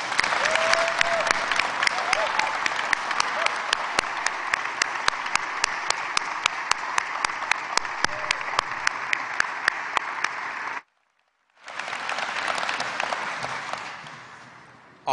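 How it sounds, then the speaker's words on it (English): An audience at Richmond's 2023 State of the City address applauds city employees, dense sustained clapping with sharp individual claps, broken by a brief silent gap before the applause resumes and fades. "will the rest of us here tonight please join me in applauding their service?"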